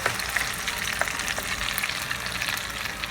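Potato pancakes frying in oil in a pan, a dense continuous close sizzle with small crackles throughout, steady and moderately loud with no voices.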